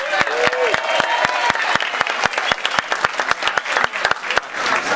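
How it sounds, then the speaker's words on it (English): Audience applause at the Jefferson Jackson 2013 awards dinner, a dense burst of clapping with sharp individual claps throughout, loud and close, with some voices mixed in. "They really applaud the Patevis, you know that."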